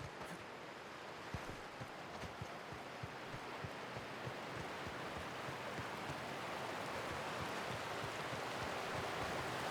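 Steady rushing water from a waterfall in The Outer Worlds video game, a continuous broadband roar with a low churning rumble that holds even and unbroken throughout, with no talk over it.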